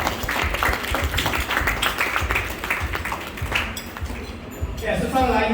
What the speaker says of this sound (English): So can we have a big round of applause to Sarala as well?